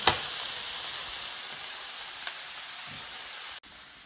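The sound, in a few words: frozen vegetables sautéing in a pan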